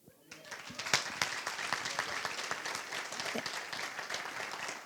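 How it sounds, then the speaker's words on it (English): Sustained audience applause at a Dallas remembrance event honoring scholarship recipients, a dense steady patter of many hands that swells in early and holds at an even level throughout. "let's give another round of applause to every single one of these scholarship recipients"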